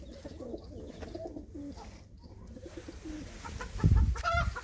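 Soft pigeon coos and low bird murmurs repeat quietly, followed near the end by a louder burst of fowl clucking nearby.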